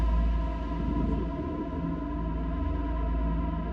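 A soft, sustained synthesizer pad hums with a thick, slowly shifting texture, swelling gently and holding steady with no voices.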